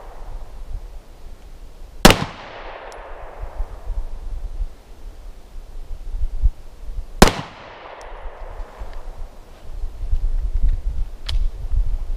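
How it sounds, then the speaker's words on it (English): Two sharp, loud 9mm pistol shots from an M&P Compact are fired at targets from 10 yards, several seconds apart, each with a long decaying echo across an outdoor range. "I'll shoot the top target with this, and then shoot the bottom target with the Inceptor 65 grain"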